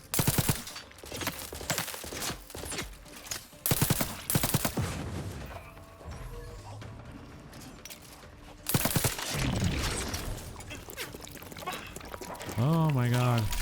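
Bubble gun being refilled in the video game Outer Worlds 2, bursts of rapid gunfire-like clatter followed by a gurgling liquid fill and rising synthetic tones at the end, under a speaking voice.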